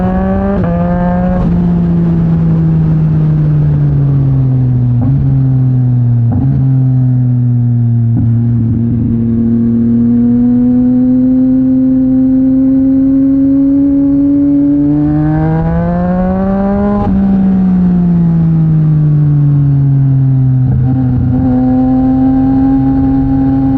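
Yamaha MT-09 motorcycle fitted with a Mivv X-M50 aftermarket exhaust, riding in traffic and pulling through the gears; a loud, steady engine drone rises and falls with several throttle changes and shifts, recorded close with no talking.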